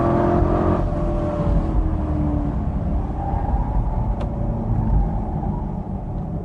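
An LS6 Corvette Z06 powering out of a turn, its V8 rumbling loud and steady as the driver feeds in throttle, heavy low engine roar filling the whole stretch.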